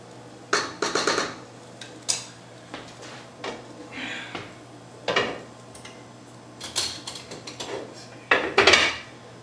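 Glass jars and metal lids clink and clatter in scattered bursts, close by, with quiet pauses between the handling noises, as they are taken out of boiling water while making tomato juice.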